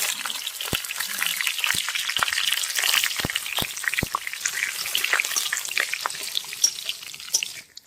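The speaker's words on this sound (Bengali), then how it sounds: "ফোড়নে দিয়ে দিব জিরে, শুকনো লঙ্কা, দুটো তেজপাতা" Cumin seeds, dried red chillies and two bay leaves sizzle steadily in hot oil for a Bengali egg dhoka curry, a dense crackling hiss with sharp pops scattered throughout, close and continuous.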